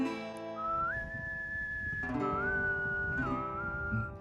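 A person whistles a short, simple melody of a few sustained notes, clear and close, with a low murmur of background noise.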